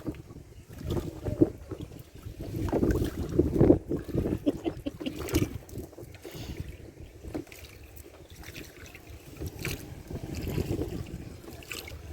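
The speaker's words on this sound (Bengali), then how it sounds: "জীবনে প্রথম দেখলাম শিফাকে নৌকা ভ্রমণে ভয় পেতেছে" Water sloshes and splashes steadily around a moving boat, with wind buffeting the microphone and occasional knocks against the hull.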